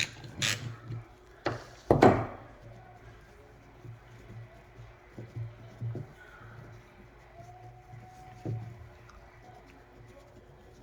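A ratchet wrench working on a Cat 3406B diesel engine with a power loss: a few sharp clicks and short metallic ratcheting bursts, close by and intermittent, separated by quiet handling noises.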